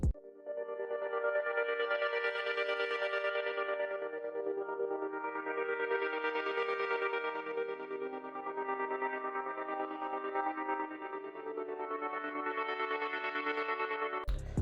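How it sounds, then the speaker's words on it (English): A sustained ambient synth pad drones on, swelling and fading in slow waves, washed in heavy reverb and shimmering effects, with no voices. "I added another ambient pad from Analog Lab"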